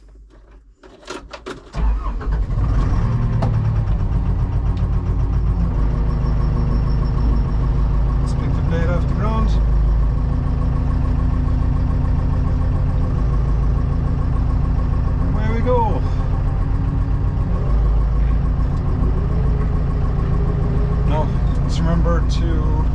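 An old abandoned Caterpillar excavator's engine cranks briefly, catches and settles into a loud, steady diesel running drone that continues throughout, with occasional clunks.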